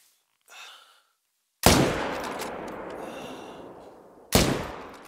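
Two loud, close rifle shots ring out at elk in theHunter Call of the Wild, each followed by a long rolling echo, after a soft breath at the start.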